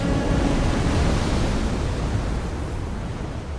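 Waves smash against a harbour breakwater arm as gusts of wind up to force 7 roar, a loud, continuous rush of surf and wind noise with no voices.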